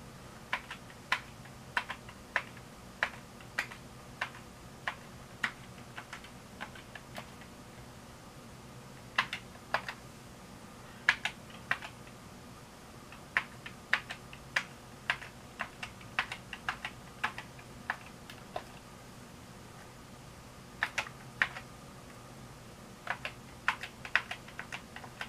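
Keys clicking on the keyboard of a Briel Computers Replica I, an Apple I clone computer, in scattered bursts and single presses with pauses between, close and fairly loud over a steady low fan-like hum, with no talking.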